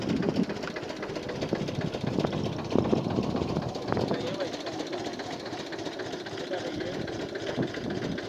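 An Eicher tractor engine idles and knocks while driving a belt-powered tubewell borewell pump on a farm, close and rhythmic, with voices talking over it.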